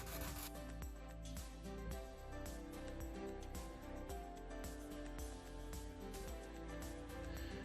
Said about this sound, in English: I'm just going to sand this area where I'm not happy with it